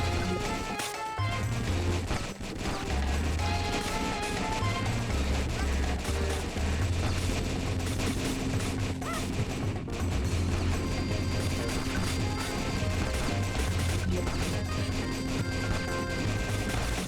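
Turret gunfire rattles from a penguin-defending Wii video game amid crashes and dense game music and effects, with repeated bursts that continue throughout.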